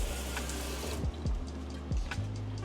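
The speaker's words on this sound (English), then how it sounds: "I'm just gonna put a bit of water here, because we don't want this to dry and be like really sticky." Water poured into a dish in a home kitchen, a steady watery trickle and splash running throughout with a few small clinks.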